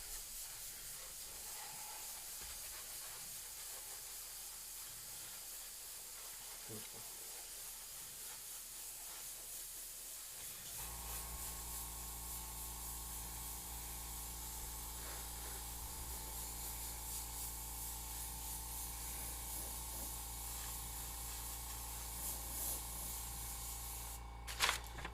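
An airbrush spraying paint sets up a faint, steady hiss partway through, with a low mechanical hum underneath, after a quieter start with only light handling sounds.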